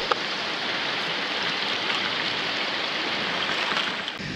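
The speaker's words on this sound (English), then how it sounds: "right here by the waterfall and a beautiful stream in the jungle of this amazing island" A waterfall and stream in the jungle of an Azores island give off a steady, broadband rush of falling and flowing water, loud and unbroken throughout with no voices.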